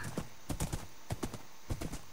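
A horse's hooves trot in a video game with a steady clip-clop rhythm, several clear close hoof strikes falling in quick groups with short gaps between them, and no talking over them.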